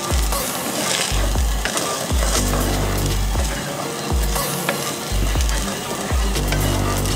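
Already-cooked spicy rice with jalapenos and spices is stirred in a hot frying pan, giving a steady close sizzle broken by repeated scraping strokes about once a second.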